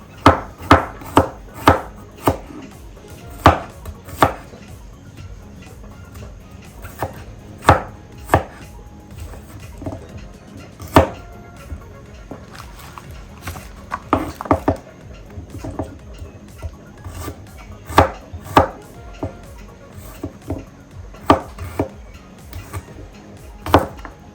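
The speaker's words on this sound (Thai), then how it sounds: "เราจะมาซอยหอม ซอยเครื่องนะจ๊ะหอมแดงนี่เราจะซอยไว้ก่อน" Rapid knife chops slicing shallots on a cutting board in quick irregular bursts, close and crisp, continuing steadily throughout.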